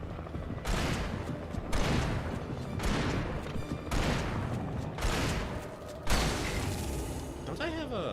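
Gunfire in Alan Wake Remastered, a run of repeated loud shots about once per second mixed with game effects, with voices talking over the shooting.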